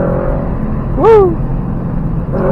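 A car on the repaved, winding Tail of the Dragon road rises sharply in engine pitch as it grabs second gear, a brief swelling rev above steady road rumble heard from inside the cabin.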